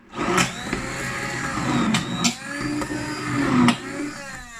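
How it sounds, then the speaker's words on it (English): A blender whirs continuously at close range blending thick homemade ketchup with boiling water, its motor pitch wavering slightly as the mixture churns, with a few brief sharper bursts. "so I'm gonna add about a 1/4 cup of boiling water to this and blend again"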